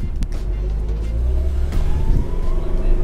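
A 2010 Toyota Avanza S with automatic transmission and 1500 cc engine revving on a test drive, a strong close engine drone rising in pitch as it accelerates, heard from inside the car.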